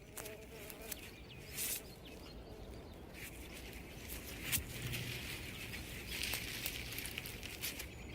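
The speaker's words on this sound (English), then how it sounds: "But he can barely handle a bee." A bee buzzes faintly outdoors in the Arctic, a thin intermittent drone among soft rustling, scattered clicks and distant bird calls, with no voices.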